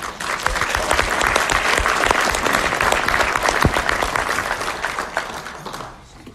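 An audience claps steadily and warmly to welcome a speaker, Cheryl Brown, a dense wash of applause from a crowd that fades out near the end.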